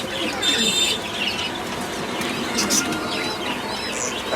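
Pigeons, including White Bombay birds, chirp and coo faintly in a busy bird market in Gazipur, with scattered short calls and a brief flutter of wings over low background murmur.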